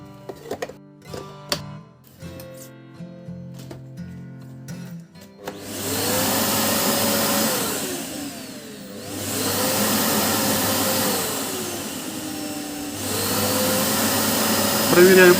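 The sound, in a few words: Samsung vacuum cleaner running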